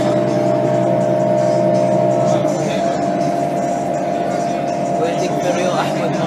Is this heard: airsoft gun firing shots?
no